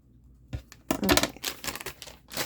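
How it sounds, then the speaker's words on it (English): Scissors snip and cut paper for a handmade journal, a few short crisp crinkling cuts close by, quiet and alone after a brief pause. "Scissors and cut this off."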